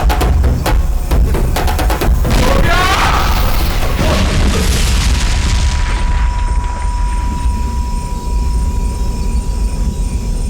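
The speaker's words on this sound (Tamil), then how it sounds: "ஆனால் திடீர்னு வெடிச்சிருச்சு" A loud, deep explosion booms at night on a road in a movie scene, a heavy rumbling blast with crashing debris that roars continuously and then settles into a sustained low roar with a faint steady tone.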